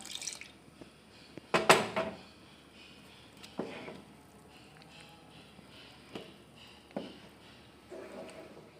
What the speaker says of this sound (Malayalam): ഇനി നമുക്കിതിൽ പാൽ ഒഴിച്ച് കൊടുക്കാം